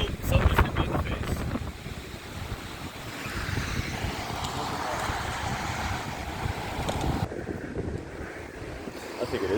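Steady wind buffets the microphone during a tornado outbreak storm in Illinois or Indiana, rushing and roaring with a louder gust at the start.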